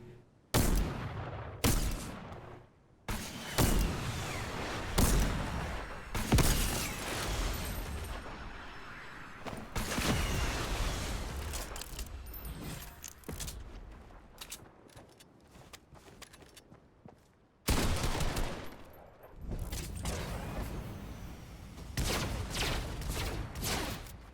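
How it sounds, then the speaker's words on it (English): Rapid gunfire and blasts during a Marvel superhero video game battle against Galactus, coming in loud repeated bursts with brief quieter gaps throughout. "I don't really know what he's shooting at, to be honest."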